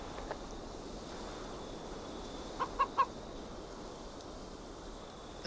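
A few short chicken clucks from a fowl in the video game Assassin's Creed Valhalla, three quick close calls clustered together over a steady low background hum, with no talking.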